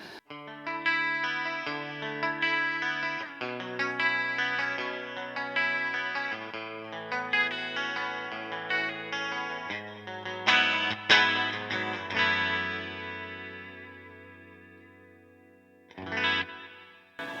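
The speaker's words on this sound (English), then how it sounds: "let's go with the chorus right away as well, and just do arpeggios for days" A clean Fender Player II electric guitar picks out continuous arpeggios, shimmering with a chorus effect, ringing steadily for most of the passage before fading, then a brief final strum.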